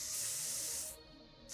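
A spray in the video game Space Station 13, a bright, loud hiss lasting nearly a second, then a brief second spurt starting near the end, with no talk.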